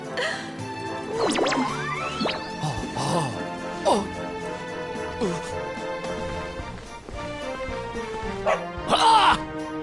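A dog barks in a PS4 video game, with short yips and bow-wows scattered among in-game sounds and chiming effects, while a player's voice talks over the action.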